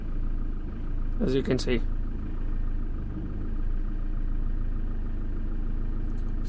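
A Ford Transit 2.4 TDCi diesel van, suffering MAF faults, idles with a steady low rumble throughout, while a person talks briefly near the start.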